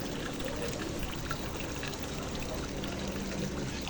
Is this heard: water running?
yes